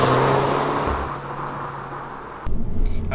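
A Peugeot 208 GTI by Peugeot Sport cornering through a bend, its engine note easing off and fading to a low hum before a sharp jolt and renewed rumble near the end.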